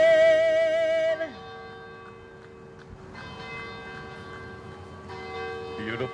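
Resonant bell strikes ring out at an outdoor Veterans Day ceremony in Amherst, one loud tolling at the start decaying into a long hum, followed by two softer strikes that linger, with no talking.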